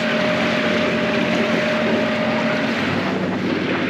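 Strong wind buffets the microphone at the back of a boat off Scotland as the weather closes in, with a constant roar over a steady engine hum and water rushing past.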